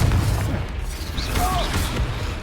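Confringo explosive spell blast in Hogwarts Legacy, a dense booming burst with crackling mechanical clatter and a brief whistling tone, heard amid continuous game noise without a distinct isolated onset.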